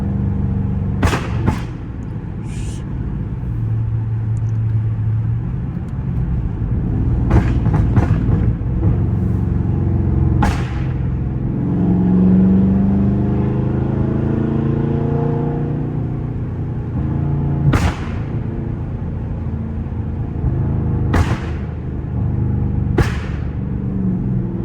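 A Dodge Scat Pack's exhaust crackles and pops in sharp bursts as the engine is revved and held, over a steady low rumble from inside the car.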